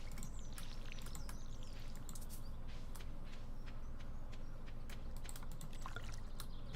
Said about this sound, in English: Look at that, the water can's filled up.